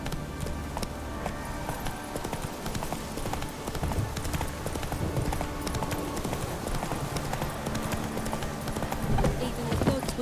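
Horse hooves galloping in The Witcher 3 video game, a fast continuous clatter of hoofbeats close to the listener, with occasional spoken voices mixed in.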